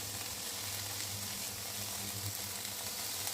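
Chicken noodles with vegetables fry in oil in a pan, giving a continuous close sizzle with a faint low hum underneath and no talking.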